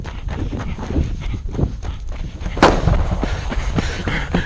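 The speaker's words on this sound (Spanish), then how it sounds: "Escuchen los disparos." Amid rumbling background noise, a single sharp, loud crack stands out, with a few fainter thumps scattered around it, like distant gunfire.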